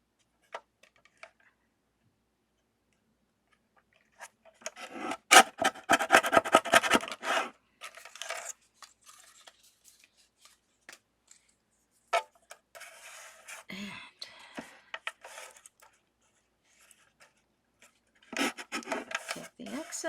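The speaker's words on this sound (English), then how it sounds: "Just going to trim off this piece." Paper trimmed for handmade card making with a sliding paper trimmer: a near, dry rasping cut of a few seconds, followed by lighter scraping and rubbing sounds and a second burst of cutting near the end.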